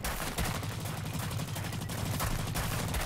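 Rapid gunfire and bursts of shooting in a video game, a continuous rattling barrage at low level.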